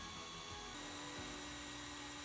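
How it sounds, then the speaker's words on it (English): A handheld power drill whirs steadily as it spins a dowel to coil wire for chain mail rings, a continuous motor drone with faint thumps. "Fire up the drill and guide the wire with your free hand."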